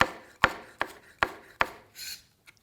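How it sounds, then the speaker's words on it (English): A Santoku Japanese knife slicing ingredients on a board makes five evenly spaced sharp chopping knocks, close and crisp, followed by a short scraping swish and a faint final tap. "I just love the rocking motion that this knife provides"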